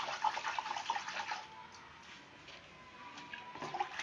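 Water runs steadily from a tap, close and fairly quiet, then the flow weakens and stops.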